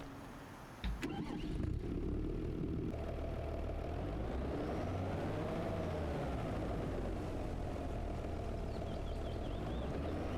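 A heavy tractor engine in Farming Simulator 25 cranks and catches, then settles into a steady, loud rumbling idle with a droning mechanical hum that continues throughout.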